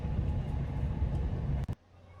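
A train arriving at a station rumbles loudly with a low, dense roar that cuts off abruptly into quieter ambience near the end.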